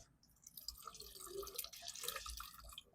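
Collected rainwater overflows a container, splashing and dripping continuously in a close, bright trickle with small plops throughout.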